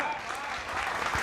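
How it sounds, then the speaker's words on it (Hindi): An audience at a Hindi poetry and political satire show claps in a brief, dense burst of applause, steady and fairly close, with a voice faintly present underneath. "थोड़ी तालियां बढ़ाइए बेटा"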